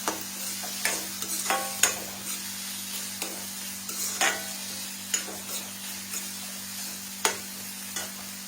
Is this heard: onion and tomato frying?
yes